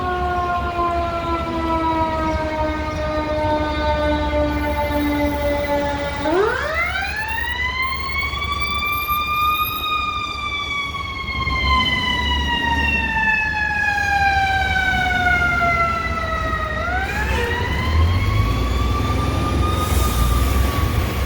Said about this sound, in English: So ambulance 11, they responded to a medical emergency call.